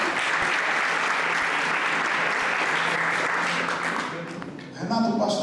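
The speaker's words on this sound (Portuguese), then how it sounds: "Uma salva de palmas" Applause from a church congregation for a man named Renato, sustained and even for about four seconds, then dropping away as a voice begins speaking.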